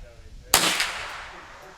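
A single sharp crack from a custom Ruger 10/22 rifle with Volquartsen parts fired at a target range, close and loud with a brief decaying tail, preceded by faint low background.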